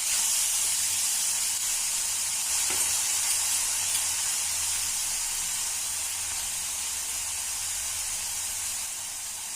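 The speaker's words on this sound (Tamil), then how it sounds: "வெங்காயம் கொஞ்சம் நல்லா வதங்கட்டும்" Onions sautéing in a pan for potato masala give off a loud, steady broadband sizzle and hiss that holds throughout and eases slightly near the end, with no talk.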